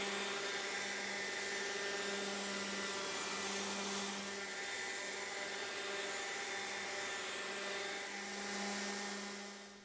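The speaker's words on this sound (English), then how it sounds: "I will follow all this up with my random orbital sander to get a smooth finish" A random orbital sander runs steadily over wood with a constant, even whine and rushing hiss for the whole stretch, close and loud, with no talking.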